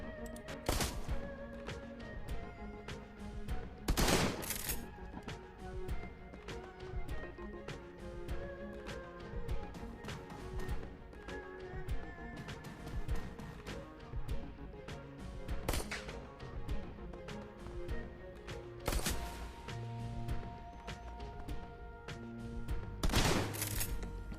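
Shotgun blasts in the turn-based game Shadowrun: Hong Kong, several sharp booming shots spaced seconds apart over a busy background of game music and effects.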